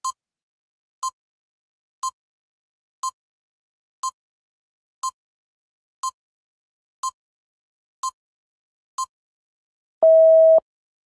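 A countdown timer gives ten short, evenly spaced beeps about a second apart, then one longer, louder final tone, with nothing else around it.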